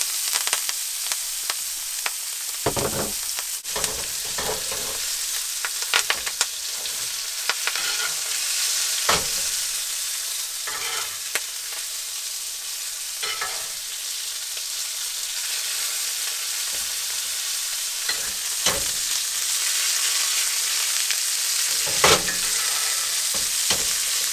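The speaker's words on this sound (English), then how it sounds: "I'm gonna throw in our butter, our thyme, and our garlic." Steak sizzling in a hot pan with butter, thyme and garlic outdoors in the mountains, a loud continuous sizzle with periodic spattering bursts and utensil clicks, no voices.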